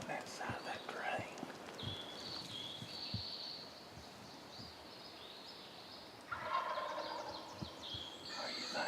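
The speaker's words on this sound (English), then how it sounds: "I think we listen to him gobble." A wild turkey gobbles in the New Hampshire woods during a midday hunt, with rattling gobble bursts at moderate distance, heard under soft whispering and footsteps of hunters moving nearby.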